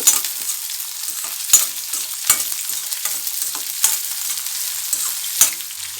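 Small shallots fry over high heat with browned urad dal for an elephant foot yam stir-fry, a bright continuous sizzle punctuated by several sharp spoon strikes and scrapes against the pan.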